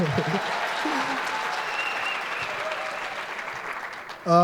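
Sustained audience applause from a comedy crowd in Rwanda, dense and steady for several seconds, briefly overlapping a voice at the start and cut by a louder burst of sound at the end.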